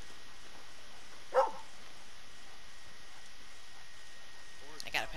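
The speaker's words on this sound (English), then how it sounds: "I gotta pet the dog." A dog in the Red Dead Redemption 2 video game gives a short, sharp bark, then a second brief bark near the end, over a quiet, steady ambient hum.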